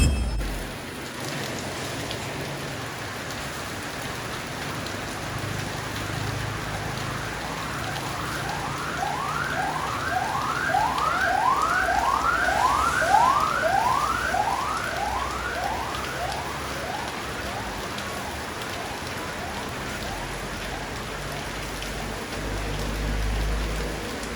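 Steady rain hisses throughout in the Philippines while a siren wails in the distance, rising and falling for several seconds before fading.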